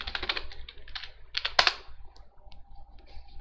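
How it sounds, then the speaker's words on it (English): Computer keyboard clattering as pip install Pillow is typed, a quick burst of crisp close keystrokes followed by a few spaced taps. "To install them, open cmd and type pip install Pillow."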